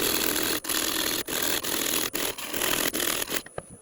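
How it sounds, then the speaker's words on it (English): Sturdy parting tool cutting into a large oak burr spinning on a wood lathe, a close, harsh, continuous scraping hiss broken by regular rhythmic dips, stopping abruptly at the end. "I'm actually going in here with a fairly sturdy parting tool, just to try and get past that inclusion"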